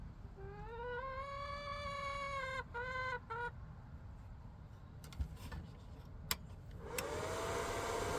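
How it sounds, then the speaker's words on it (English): Chickens cluck loudly near a backyard welding setup. A long drawn-out squawk is followed by a few shorter calls, then sharp clicks and rustling and a fainter call near the end. No one speaks. "Yes, I talked to my chickens."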